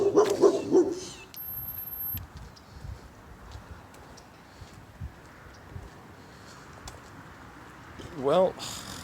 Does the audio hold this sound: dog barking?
yes